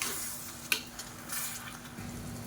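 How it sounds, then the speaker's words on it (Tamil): Tomatoes sauté in oil in a pan for a brinjal curry, giving a quiet, continuous sizzle broken by a sharp clack of a spoon stirring against the pan. "சேர்த்துட்டு நல்லா எண்ணெய் பிரிஞ்சு வர அளவுக்கு வதக்கிக்கலாம்."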